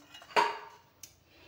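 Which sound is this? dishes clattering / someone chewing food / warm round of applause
dishes clattering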